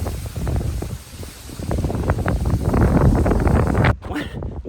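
Gusty wind blowing outdoors at a market garden ahead of thunderstorms, buffeting the microphone in heavy rushing surges that swell and ease, with a brief dropout near the end.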